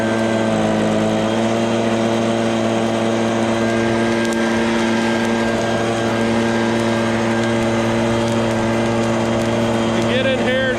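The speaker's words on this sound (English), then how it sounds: "we're using the Stihl BG56C blower, and this is what I call the turbo effect" A Stihl BG56C leaf blower runs nonstop close by, blowing onto a smouldering fire of wet brush during land clearing. Its loud, constant engine drone carries a steady tonal whine that holds level throughout.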